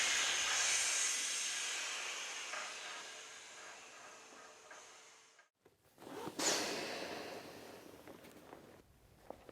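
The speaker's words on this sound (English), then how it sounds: "Trigger 1 canister, then release with the dump valve." A 25-gram CO2 canister fills a Patagonia personal surf inflation vest with a loud, steady hiss that fades over several seconds and cuts off. A sharp burst of gas from the dump valve follows, then a softer hiss.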